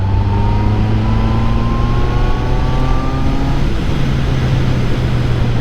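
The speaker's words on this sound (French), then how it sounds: "Le 4 cylindres, hein." A QJ Motor SRK 800 four-cylinder roadster motorcycle being ridden uphill, its engine droning loud and close with a smooth rising pitch as it pulls through the gears, wind rush underneath.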